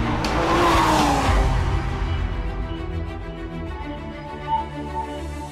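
A Porsche 911 GT3 RS driving hard through curves, its engine a loud steady roar close by that fades to a quieter rumble, with faint tire noise and no speech.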